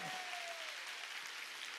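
A church congregation applauds at a summer mountain revival meeting, a dense, steady wash of clapping from many hands filling the room evenly, with a brief vocal tone fading near the start.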